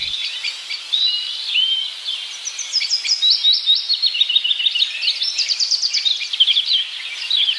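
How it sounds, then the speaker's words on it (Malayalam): Many small birds calling from a tree in a cartoon scene, with rapid overlapping chirps and trills that build into a steady, lively chorus, bright and close, with no voices. "ആ മരത്തിൽ നിന്ന് കിളികൾ കരയുന്നത് കേട്ടോ?"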